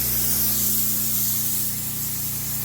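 A hose sprays water in a steady, close hiss to wet down a warm surface, with a low motor hum underneath and no talk.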